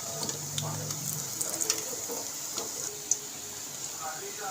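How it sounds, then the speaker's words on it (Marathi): Kothimbir vadi, coriander fritters, frying in hot oil give a steady hissing sizzle throughout, with faint clinks and stirring noises of a utensil in the pan. "आता एक एक वडी तेलामध्ये करून घेते."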